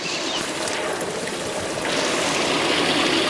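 Water pours steadily out of a slot, a continuous broadband rushing and splashing that swells slightly louder in the second half, close and alone with no voices.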